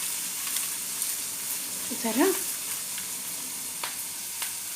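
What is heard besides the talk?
ridge gourd peel frying in half a spoon of oil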